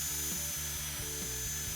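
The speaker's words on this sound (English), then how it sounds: "drill the hole" A power drill bores a pilot hole in wood for a screw, a steady whirring motor with rhythmic pulses as the bit cuts, quiet and alone.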